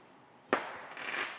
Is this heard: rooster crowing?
no